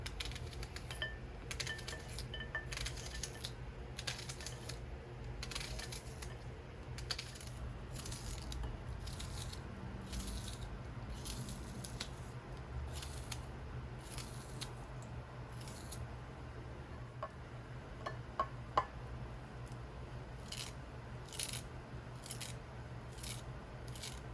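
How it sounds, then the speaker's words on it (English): A knife chops a small onion on a board in quick, crisp cuts, with a run of rapid strokes giving way to sparser taps, quiet against a low steady background hum. "1 small onion, I'm gonna cut it up."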